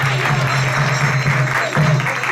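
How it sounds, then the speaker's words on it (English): A temple congregation at a Narasimha Caturdasi celebration gives a warm round of applause, a dense, continuous patter of clapping over a steady low hum from the hall's sound system. "Give them a warm round of applause"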